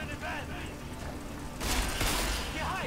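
Enemy gunfire in Deus Ex: Mankind Divided, a muffled burst of distant shots rising after a quiet mechanical stretch, partly masked by speech.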